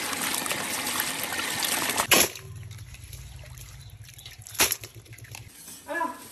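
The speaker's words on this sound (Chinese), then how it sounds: "再清洗最后一遍。" Live crayfish being rinsed a final time in a basin, water trickling and splashing with a few louder sloshes, close up and without talk.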